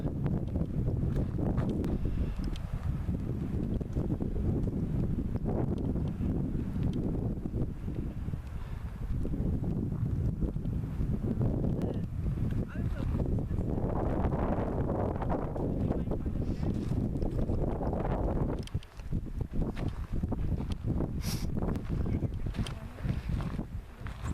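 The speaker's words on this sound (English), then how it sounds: "Pretty windy up here, but it'll probably calm down when we get down into the trees." Strong, steady wind buffets the microphone on a mountain top in a constant roar, rumbling heavily from start to finish with no break.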